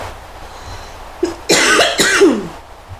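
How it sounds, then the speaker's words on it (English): A short throat clear followed by a couple of harsh, close coughs, loud and abrupt, then quiet. "Man, I need to stop coughing."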